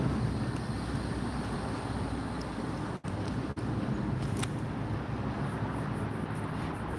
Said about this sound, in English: We got a lot of trucks and stuff in the background.